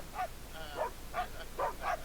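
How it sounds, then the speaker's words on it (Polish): A dog gives a series of short barks and whimpering yips in about five separate bursts, faint and somewhat distant, with no one speaking over them. "Biedny pies."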